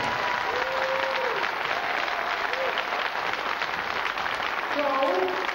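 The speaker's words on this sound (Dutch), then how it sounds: "moeten jullie nu een oorverdovend applaus geven" Deafening applause from a crowd of children at a Cinderella-themed princess ball on a Dutch children's TV show, a dense steady clapping wash that carries on throughout, with a few voices calling out near the end.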